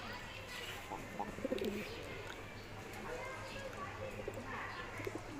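Pigeons cooing nearby, soft low repeated coos over a steady background hum, with someone talking at the same time.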